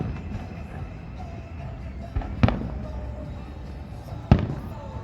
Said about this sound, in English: Fireworks are like bombs though.